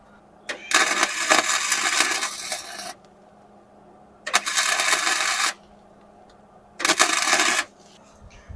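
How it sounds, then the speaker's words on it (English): A nut is welded onto a broken bolt on a Jeep TJ with a 4.0 engine, three loud crackling, sizzling arc bursts of about one to two seconds each, separated by short quiet gaps. "I got a little nut that I found from the CJ that I'm going to try to weld on there."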